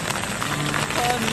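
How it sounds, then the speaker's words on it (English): Steady rain falls outdoors on a cold day, a continuous dense patter filling the space at close range with faint voice-like sounds mixed in. "It's a raining day,"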